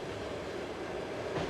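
A Trans-Siberian railway locomotive gives off a steady, fairly quiet rumbling drone with no distinct clicks or horn.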